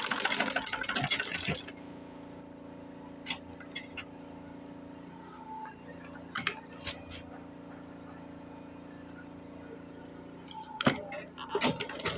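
A sewing machine stitching a football bag, a loud whirring run at first, then a low steady motor hum with scattered clicks and rattles, close by.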